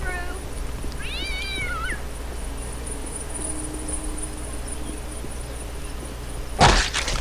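A cat meows once in the Postal 2 video game, a rising and falling cry heard clearly over steady game ambience, followed later by a sudden loud burst of noise.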